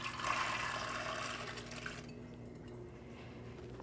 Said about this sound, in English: So we're going to add those into the hot water carefully.